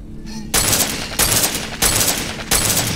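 Four loud, heavy gunshots from a one-shot weapon in The Walking Zombie 2 blast at a steady pace, each followed by a brief rumbling tail, close and punchy.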